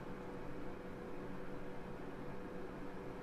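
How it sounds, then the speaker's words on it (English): A small room heater runs steadily indoors, giving off a faint, even broadband hiss like white noise that holds constant with no breaks and no speech. "If you heard like a sort of like a white noise, I had my little heater on"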